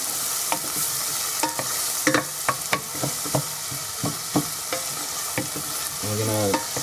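Chopped onions sautéing over medium heat in a pan for cream of pumpkin soup, a loud steady sizzle with scattered scraping stirs and clacks of a utensil against the pan.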